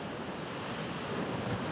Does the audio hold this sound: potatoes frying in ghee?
no